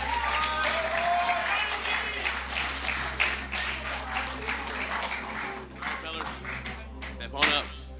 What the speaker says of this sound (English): We are going to be presenting them with their silver medals and a huge round of applause.